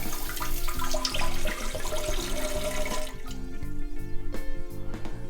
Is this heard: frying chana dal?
no